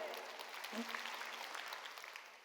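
A church congregation at a Wednesday worship service claps together, a faint, distant patter of applause that carries through the short moment and tapers off.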